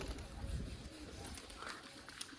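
A pigeon coos softly in a few low, throaty pulses, faint and somewhat distant against a hazy outdoor background.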